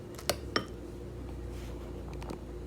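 A spoon is picked up with two quick close clinks against dishes, then a faint quiet background remains; the sounds are soft and brief, with no talk.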